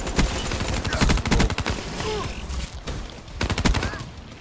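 Call of Duty Black Ops III gunfire cracks out in loud, rapid bursts of automatic shots with short gaps, close and punchy, with a voice talking briefly between volleys.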